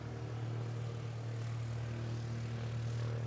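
An ANA Boeing 787-9 Dreamliner airliner at Honolulu airport produces a steady, moderately loud engine roar throughout, with no voices over it.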